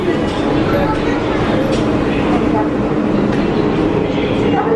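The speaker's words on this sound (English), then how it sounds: "3:20 in the afternoon, we got our own monorail." The Magic Kingdom monorail runs with a steady rolling rumble and faint clatter from inside or close by, while people talk over it.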